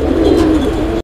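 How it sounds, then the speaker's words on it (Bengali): A pair of full Bombay pigeons coos loudly and close up, a steady rolling murmur filling the whole short moment before it cuts off abruptly. "একজোড়া কোয়ালিটি ফুল বোম্বাই কবুতর"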